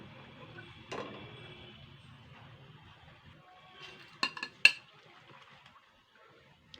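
Fried banana and egg fritters are lifted out of oil with a utensil, a few quiet metallic clinks and scrapes against the pan over a faint, hushed background.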